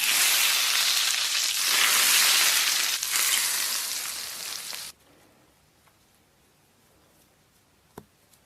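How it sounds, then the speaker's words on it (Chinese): Hot oil poured over minced scallion, garlic and chili powder bursts into a loud, close hiss of sizzling that fades and then stops abruptly, leaving near-silence and one sharp click. "葱末、蒜末、辣椒面铺好泼上热油"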